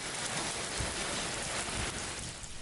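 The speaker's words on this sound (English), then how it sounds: "I can really feel these winds picking up in the last couple of minutes as this rain approaches" Steady, dense rain from an approaching Pacific-fed atmospheric river storm in San Diego County, a loud continuous hiss of falling drops with no speech.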